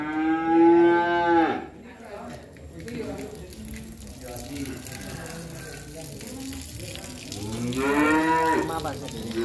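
Cattle at a cattle farm give two loud, drawn-out moos, one at the start and one near the end, with quieter barn noise and some talking in between.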